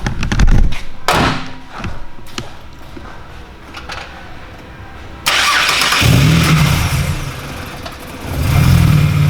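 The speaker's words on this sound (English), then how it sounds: "at that point, obviously, it's now time to start the car" A Ford Falcon 4.0L six-cylinder petrol car cranks with a few clunks, then the engine catches and settles into a loud, steady idle with slight revs.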